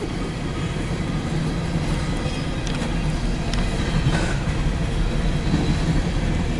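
A CSX empty coal train of about 130 cars pulled by four engines rumbles steadily past at close range, with a continuous roar and faint rail clatter and no pause.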